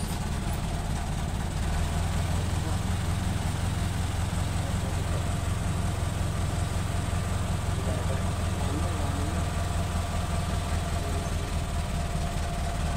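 An old-model Mitsubishi 4D30 diesel engine runs steadily on its own, giving a constant loud low rumble and idling drone with no change in pace.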